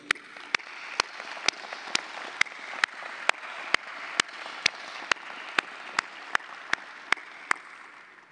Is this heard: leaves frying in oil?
no